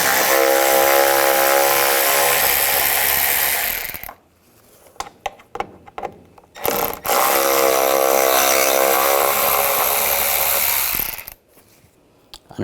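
A socket tool whirs in two long, loud bursts while removing screws from the bumper of a 2014-2018 GMC Sierra 1500, with short clicks and rattles in the quieter gap between.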